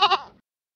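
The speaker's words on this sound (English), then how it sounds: "Goat." A goat gives one short bleat of two quick wavering pulses, close and clear, then silence.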